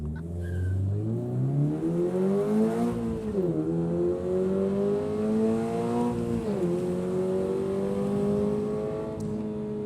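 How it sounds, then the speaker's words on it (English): A 2023 Toyota GR86 with the FA24 engine runs hard around a race track, engine droning loud from inside the car as revs climb steadily, dip at shifts or braking, then build again. "this car's so much fun, we just had to come out for a second lap"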